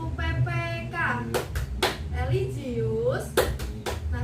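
Rhythmic classroom clapping routine (tepuk PPK) led by a teacher, with a few sharp, evenly spaced claps between stretches of spoken chanting.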